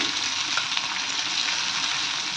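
Chopped tomato and cumin seeds fry in a pan with a steady, dense sizzle that stays close and even throughout, sounding alone with no talking.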